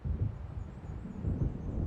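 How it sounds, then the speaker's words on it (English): Low rumbling thunder from an approaching storm in the Alan Wake video game rolls in two soft swells, distant and muffled with a faint windy hiss. "It seems there's a storm coming."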